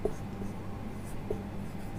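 Pen writing on paper during a chemistry lesson gives a soft, steady scratching close by, with faint ticks from the pen tip and no clear talking.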